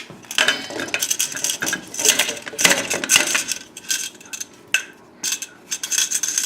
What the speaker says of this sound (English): we'll add the cooled off potatoes and the tomatoes that I cut in half.